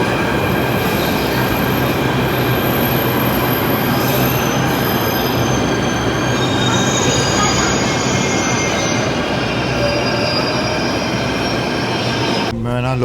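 A moving train rolls along steadily, its continuous close rumble laced with high metallic wheel squeal and faint clatter, holding an even loudness throughout with no talk over it.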